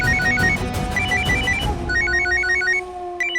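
Phone rings loudly in a TV drama scene, a repeating electronic ringtone pattern heard up close alongside background music that drops away partway through.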